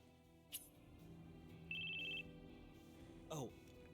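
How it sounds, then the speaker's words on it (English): A phone in the video game Crisis Core gives a single short electronic ringing trill, fairly clear over a steady low game background, framed by brief blips before and after. "This dude's phone is ringing all the time."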